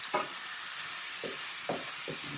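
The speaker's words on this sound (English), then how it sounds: "our pan is warm and ready for the chicken to go in, that nice sizzling noise" Chicken pieces sizzle in a hot frying pan with a steady, close hiss, and a few soft scraping stirs come through at irregular moments. No one speaks.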